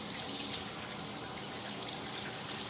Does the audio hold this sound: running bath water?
yes